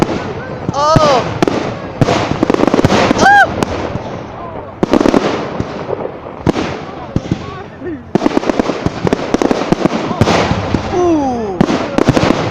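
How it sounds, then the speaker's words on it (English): New Year's Eve fireworks going off for the 2022 celebration, rapid loud bursts and crackling pops in quick clusters with whistling rockets, close and continuous, while people exclaim and talk excitedly throughout. "the fireworks going off at the bottom"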